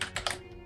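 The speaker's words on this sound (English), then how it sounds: "Let me press enter, wait a few seconds." Keystrokes on a computer keyboard while configuring a network switch: a few quick taps bunched near the start, close and fairly faint, with no talking.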